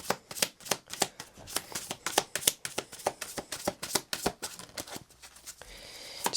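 Oracle cards riffled and shuffled by hand for a tarot reading, a close run of quick papery flicks in an uneven rhythm, followed by a softer slide as one card is drawn.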